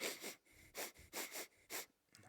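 Several short, breathy sniffs in quick succession, close and fairly quiet, with brief pauses between them.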